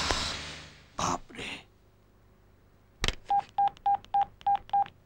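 A telephone keypad being dialed: a burst of noise and a throat clear, then seven evenly spaced short beeping tones in quick succession, fairly close and clear.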